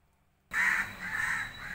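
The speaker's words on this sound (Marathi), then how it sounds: "कावळ्यांचा काव काव काव, सगळे कावळे सगळीकडे वराडतात" Crows cawing loudly and close by on a morning, with repeated harsh caws in a steady run that starts suddenly after a brief silence.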